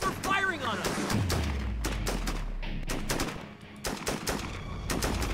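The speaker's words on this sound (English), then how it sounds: "We're still getting fired on." Enemy gunfire in the Full Spectrum Warrior video game, with repeated sharp shots cracking at an irregular rhythm over a low rumbling hum and background game noise, while voices give radio-style commands.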